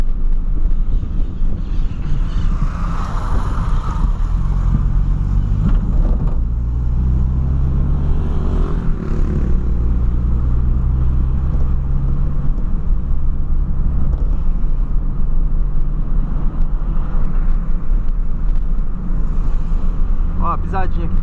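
A Ford Ka accelerates with a low, rumbling engine note under steady wind buffeting, while someone talks over it.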